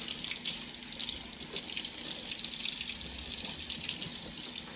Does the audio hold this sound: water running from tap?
yes